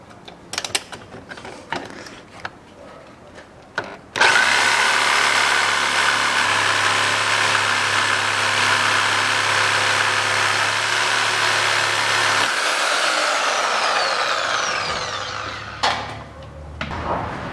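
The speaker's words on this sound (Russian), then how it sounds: "Допиливаем эту сторону." A power saw cuts through a rusted rear suspension rod on a 2005 Chevrolet Niva 4x4, running loud and steady for about eight seconds. Its whine then slows and winds down, with scattered clanks and mechanical taps before and after.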